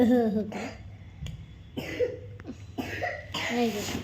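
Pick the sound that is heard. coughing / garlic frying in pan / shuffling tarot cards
coughing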